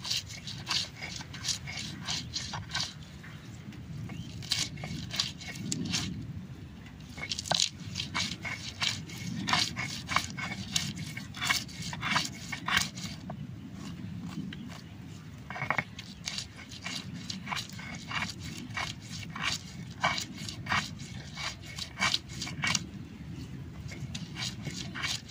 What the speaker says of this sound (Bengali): আমি অল্প মরিচ আর পেঁয়াজ বাইটে নেব